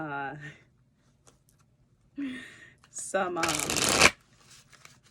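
A quick burst of tarot card shuffling, a dense riffling flutter lasting about a second, following brief speech.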